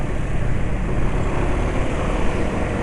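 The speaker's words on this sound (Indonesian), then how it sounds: "Ini ada mobil" A car passing nearby on a road, a loud broad rushing engine and tyre noise that holds steady throughout, with no talking.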